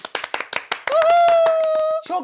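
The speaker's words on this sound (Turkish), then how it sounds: "Nisa'ya şu anda bir kocaman alkış" A quick run of sharp hand claps, then a long, sustained high vocal whoop with a short voiced sound at the end.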